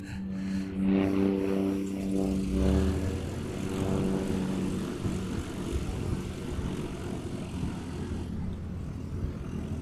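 A Qantas airliner passing close over an airfield, a loud steady engine roar with a droning tone that fills the whole stretch.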